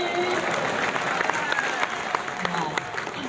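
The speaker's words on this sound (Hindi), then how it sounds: "भजन समाप्त, तालियां बजाइए" Audience applause after a Holi bhajan at a Hindi kavi sammelan in Bhagalpur, a short burst of scattered, fairly distant clapping with crowd murmur mixed in.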